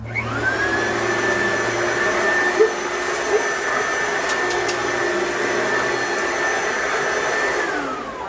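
A Simplicity commercial vacuum cleaner on its high setting runs loud at a higher, more intense pitch, starting up, droning steadily with a couple of small bumps, then spinning down.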